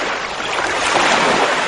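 Sea waves breaking on a shore make a steady, loud, broadband roar of surf that holds without a break and carries no voices.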